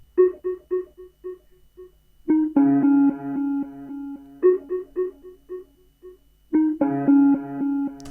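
A piano sample pitched up an octave, with halftime, heavy compression and delay: bright, short plucked piano notes in a bouncy repeating rhythm, alternating with fuller chord stabs that echo, loud and close with nothing else present.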